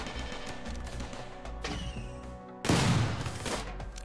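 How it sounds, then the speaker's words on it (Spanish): Gunfire from a RimWorld colony battle: a dense fusillade of shots under a steady game music bed, with a loud crashing burst of fire partway through. "Un disparo a la cabeza lleva ese"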